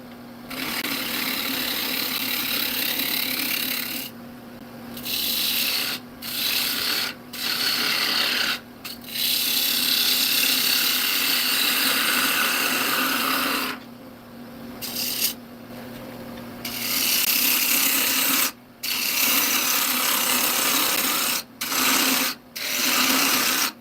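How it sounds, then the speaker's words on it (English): Soft wood bowl turning on a lathe with a 1/2-inch bowl gouge, loud rasping cuts in long sustained passes broken by short pauses, close up with no talking. "Like I'll do this whole bowl pretty much with my bowl gouge"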